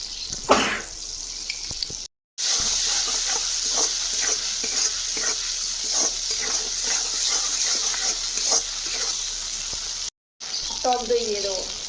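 Masala with poppy seed and cashew paste being stir-fried, a steady sizzle with rhythmic spatula scrapes against the pan, close and moderately loud, broken by two short silences, with a brief voice near the end.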